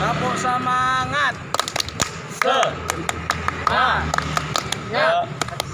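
A group claps out a rhythmic spirit chant in sharp, crisp bursts of beats, alternating with voices chanting and speaking between and over the claps.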